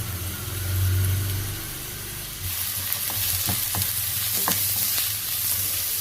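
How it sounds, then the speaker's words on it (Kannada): Onion, ginger and garlic sizzle and fry in a pan at home, a steady crackling hiss with a few sharp stirring scrapes partway through, close and fairly quiet, with no talk. "ಸ್ವಲ್ಪ ಇದನ್ನು ಫ್ರೈ ಮಾಡೋಣ."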